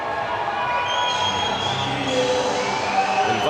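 Ice hockey crowd at a Breckenridge Vipers home game against the Reno Ice Raiders, cheering and whooping with high shrill voices, sustained and moderately loud across the arena.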